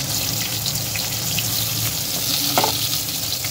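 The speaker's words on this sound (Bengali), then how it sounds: "কুমড়োটা ভাজা হয়ে গেলে ঝিঙেগুলোও আমি দিয়ে দেবো" Steady sizzling of ridge gourd and pumpkin frying in hot oil, a continuous crackling hiss throughout with a brief clink of utensils near the end.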